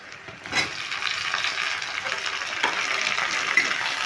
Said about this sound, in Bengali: টমেটো যদি একটু নেড়ে চেড়ে ভেজে নেব।